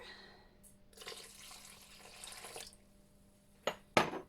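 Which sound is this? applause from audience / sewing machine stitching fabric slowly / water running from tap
water running from tap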